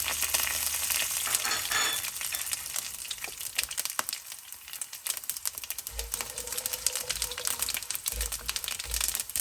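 Methi, mustard, jeera and fennel seeds splatter in hot oil for a Fiji-style soya chunk curry, making a dense crackling, popping sizzle with rapid irregular spits and occasional louder low thumps, close and continuous without talk.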